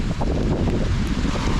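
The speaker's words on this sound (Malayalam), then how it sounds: "തണുത്ത കാറ്റ്, തണുത്ത വെള്ളം." Cold wind buffets the microphone with a loud, continuous rumble and no voices, in the Marayoor sandalwood forest near Munnar.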